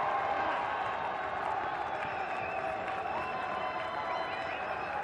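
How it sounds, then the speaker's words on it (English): Cricket crowd at an India versus Pakistan Test match in 2005 applauding a batsman, steady far-off clapping and murmuring that holds at an even level, fairly faint, with no break. "they're all out there applauding him"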